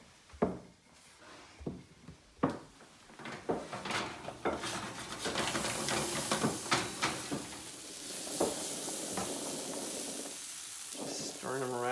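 Chickpeas roasting in a pan while being stirred, a hissing sizzle that builds and holds, punctuated by sharp knocks and scrapes of a utensil against the pan, close, with a person speaking intermittently.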